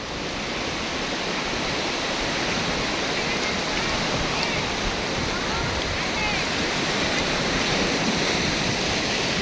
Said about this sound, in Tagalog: Ayan, yung dagat, ang ating favorite spot.